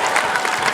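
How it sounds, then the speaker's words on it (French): Audience applause at a comedy show in Kigali, a brief dense burst of crowd clapping, loud and continuous. "Applaudissez pour vous-même les Congolais"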